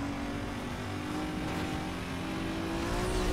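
A car engine drones and builds steadily while accelerating in Need for Speed Most Wanted, close and continuous, with a rising tone and no pauses.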